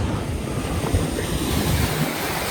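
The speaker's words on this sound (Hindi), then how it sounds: "देख सकते हो मेरे पीछे तुम, ये जो लहरें आ रही है इतनी ज़्यादा" Big ocean waves breaking on a beach in Sri Lanka, a continuous loud roar of surf with wind buffeting the microphone and no talking.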